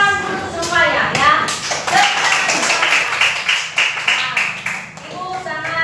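A classroom full of pupils claps their hands together, steady rapid clapping close by for several seconds with children's voices and chatter mixed in.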